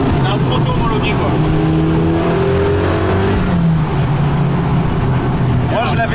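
A Dallara road-legal prototype with a 2.3-litre 400 hp engine, its loud close engine note rising and falling through the revs from inside the car, with a voice talking over it.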